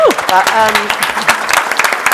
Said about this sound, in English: that should have a round of applause, everybody, by the way